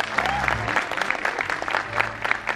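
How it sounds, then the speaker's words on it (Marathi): Audience applause at the Konkan Mahotsav 2025 festival, a steady patter of many hands clapping with a low hum beneath, continuing evenly throughout. "मला वाटतं एवढ्याच टाळ्या पुरेशा असतील का?"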